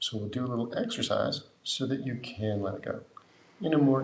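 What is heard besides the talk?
No distinct noise like a dog, phone or traffic.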